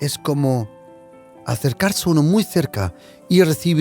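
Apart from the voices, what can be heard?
No everyday noises stand out.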